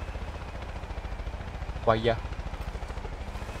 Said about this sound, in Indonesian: Oke, suara helikopter. Helikopter musuh.